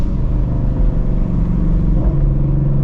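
Shelby GT350 Mustang, a Ford with its flat-plane V8 running FBO and E85, rumbles steadily and loudly up close, a continuous deep engine drone with slight shifts in pitch as it works through crisp downshifts, with no voices.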